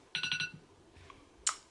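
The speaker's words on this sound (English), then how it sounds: "that's my alarm" A phone alarm sounds nearby with a quick run of four or five bright electronic beeps, then a pause, a faint tone and one more sharp chirp.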